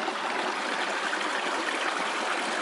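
Cold spring water flowing straight out of lava rock on a mountain trail, a steady close rushing trickle that holds constant with no talk over it.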